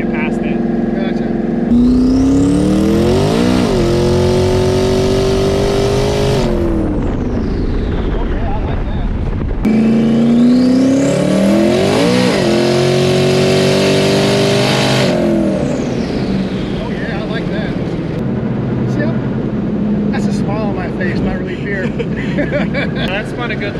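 A 1200 hp twin turbo Mustang pulls hard twice on a street, engine roaring and climbing in pitch through a gear change during each long run before backing off, loud inside the car, with people talking between the pulls.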